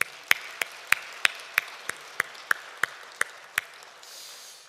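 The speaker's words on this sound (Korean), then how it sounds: "여러분, 우리 하나님께 영광의 박수 올려드리죠" Slow, sparse claps ring out in a church service, about a dozen sharp, evenly spaced hand claps from a few people in a quiet room, fading at the end.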